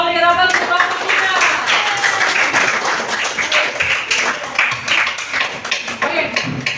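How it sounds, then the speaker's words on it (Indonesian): Classroom applause for a student group, many hands clapping close and loud in a dense, steady patter that carries on throughout. "semua berikan aplaus untuk kelompok 3"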